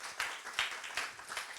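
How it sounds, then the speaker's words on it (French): An audience applauds participants of a youth mental-health citizen workshop with a short burst of a few scattered, moderately faint claps. "Je vous demande de les applaudir et je les invite à venir."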